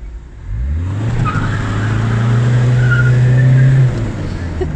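Orange car running on cooking oil hooning on a street, its engine revving in a sustained drone as the tires skid and squeal for several seconds before the revs drop off.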